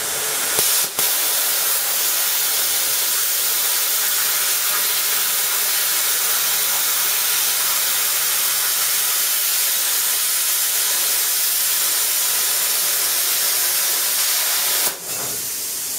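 A plasma cutting torch cuts through a lump of metal with a loud, continuous, close hissing roar that holds steady for the whole stretch, with brief pops near the start and end.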